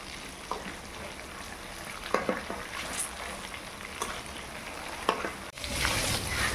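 Chicken for biryani fries slowly over a low flame, a soft continuous sizzle with a few scattered taps and stirs against the pot, a little louder toward the end, with no voices.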